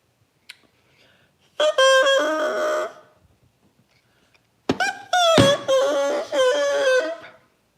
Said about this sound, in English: Sounds like a party squawker.